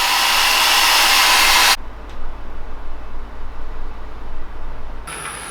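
A hair dryer or heat gun blasts a steady, loud broadband rush for almost two seconds while drying a fresh coat on a replica Holy Grail goblet. It then cuts off, and faint room noise follows before it briefly resumes.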